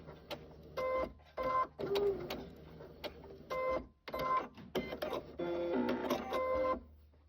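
A sewing machine stitches around the edge of a fabric appliqué in short, whirring bursts separated by brief pauses, its mechanical hum and rapid needle clatter close and moderately loud.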